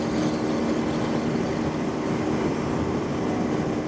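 A manual transmission car accelerates up a long on-ramp to highway speed, heard from inside as a loud, constant roar of engine and road noise with no pauses and no talking.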